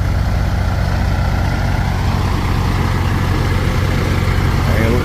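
A work truck's engine idles close by, a loud, steady low rumble that holds unbroken throughout.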